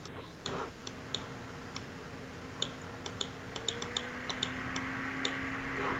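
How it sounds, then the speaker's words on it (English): Typing on a computer keyboard, scattered sharp key clicks in irregular bursts, close and fairly quiet over a low background hum. "I'm just typing it right now."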